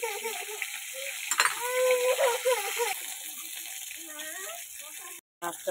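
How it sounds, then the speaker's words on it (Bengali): Fish frying in hot oil gives a bright, steady sizzle with spattering bursts and the scrape of a stirring utensil, close up, then a brief drop to silence near the end. "মাছটা পুরো ভাজা হয়ে গেছে"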